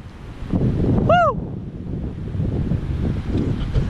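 Steady, broad rushing of a river in the Pamirs' Wakhan Corridor fills the whole stretch, loud and unbroken, with one brief rising whistle-like tone near the start.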